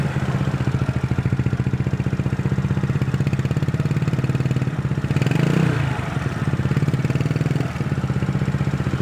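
A Yamaha Mio scooter engine with a low-throttle sputtering fault chugs close by with an uneven, pulsing putter, briefly revving louder and rougher midway before settling back to its sputtering idle.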